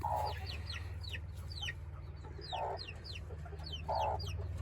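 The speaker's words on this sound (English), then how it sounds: "Nice looking silky rooster." Silkie chickens and a silkie rooster cluck and chirp repeatedly at close range, with short bursts of clucking standing out over a low steady hum.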